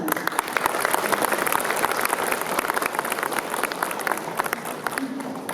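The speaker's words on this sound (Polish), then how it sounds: "Jeszcze raz Wam za to duże brawa." A crowd claps steadily for several seconds at a school year opening ceremony, a dense patter of applause that fills the room without pause.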